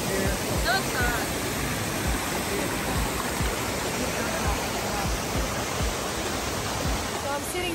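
A waterfall in Maui, Hawaii roars as a steady, dense wash of falling water, loud and unbroken throughout, with faint voices under it.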